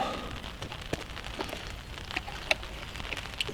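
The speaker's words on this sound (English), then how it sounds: "If you can hear the rain" Steady rain patters on a surface at the lakeside of Esthwaite Water, with occasional heavier drops tapping nearby over a soft continuous hiss.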